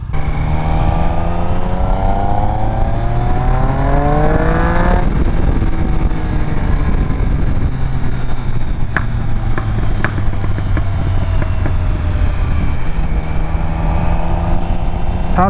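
A motorcycle accelerates hard in first gear, its engine note sweeping upward in loud rising revs before dropping and climbing again, with sharp exhaust pops and crackles cutting through near the end.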